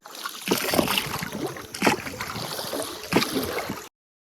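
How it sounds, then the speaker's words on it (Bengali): A small wooden boat is rowed along a tidal creek in the Sundarbans mangrove forest, oars splashing and dipping in a few uneven strokes, with water gurgling close by and no talk. "এখন আমাদের নৌকা দান দেওয়া হবে"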